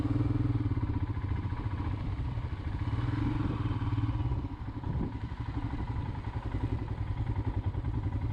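A Royal Enfield Himalayan motorcycle engine thrums steadily while riding, a close, continuous single-cylinder pulse with light mechanical clatter and a slight dip midway.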